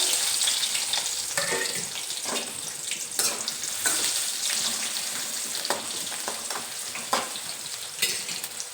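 Onions frying in a kadai give a steady, dense sizzle that runs the whole time. It sounds close and fairly loud, with intermittent sharper stirring scrapes and no speech.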